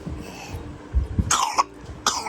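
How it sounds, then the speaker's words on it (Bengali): A person coughs at home in a few sharp, close bursts, with a pair of louder coughs near the middle and another near the end over low room noise. "দাঁত কাশি হয়েছে খুব"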